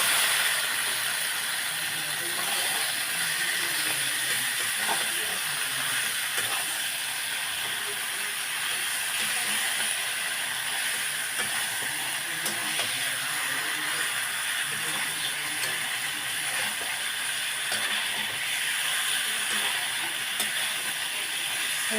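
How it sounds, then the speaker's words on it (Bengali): Pieces of broiler chicken meat sizzle in hot oil with a steady, dense hiss that holds evenly and close throughout, without pause. "এবার আমি মাংসটা এর মধ্যে দিয়ে দেবো"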